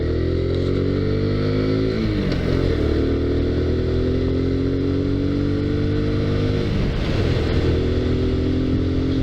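A 2019 Kawasaki Z125 motorcycle engine runs loud and close, idling steadily with two brief revs that rise and settle back, and no voices over it.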